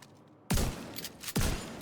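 Two heavy, booming blasts of a shotgun in Destiny 2, fired about a second apart, come after a moment of near silence. Each blast is loud and close, with a brief roar trailing off behind it.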